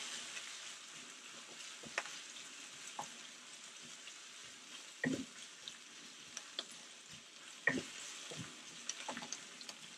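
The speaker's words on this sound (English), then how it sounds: "and we'll just keep stirring" Soft stirring in a pan with brine before cutlassfish fillets go in, a quiet low sizzle broken by scattered scrapes and clinks of a utensil, close up with no voices.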